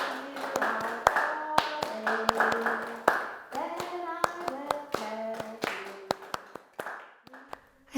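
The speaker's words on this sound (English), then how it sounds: "my choir buddies accompanied me by clapping a simple rhythm, but they just couldn't keep it together" A choir claps a simple rhythm along with a solo singer, the sung melody carrying throughout while sharp claps land unevenly and drift out of sync.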